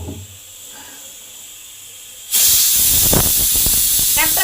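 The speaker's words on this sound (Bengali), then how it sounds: "একটা সিটি হয়ে গেছে, সিটিটাকে নামিয়ে দিলাম, গ্যাসটাকে অফ করে দিলাম।" A pressure cooker making rice pudding sits quietly, then bursts into a loud, sustained hiss of escaping steam that continues steadily to the end.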